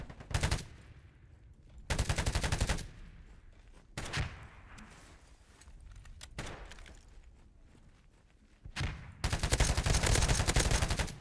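Bursts of automatic gunfire in a free-to-play shooter video game, several loud rapid volleys separated by quieter gaps with single shots and thuds.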